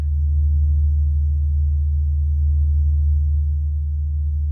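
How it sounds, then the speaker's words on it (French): Sonified sound of the Sun, rendered as a loud, steady drone of deep, low rumbling tones that holds without a break and has no voice over it. "C'est une sorte de gargouillis de sons graves,"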